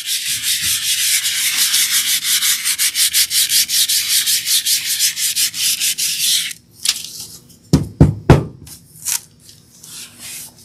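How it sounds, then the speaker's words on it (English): Hand sanding of layered paint on Easter decor makes loud, steady rhythmic rubbing strokes for about six seconds, then a few sharper scrapes and knocks follow. "if I just keep sanding at this, I'm going to sand all of the yellow off"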